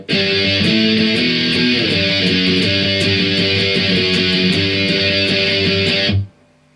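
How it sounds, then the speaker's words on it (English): Distorted electric guitar playing interlude B of a song, a loud, dense chugging riff with steady picking, close and alone, stopping abruptly near the end. "So interlude B will sound like this then."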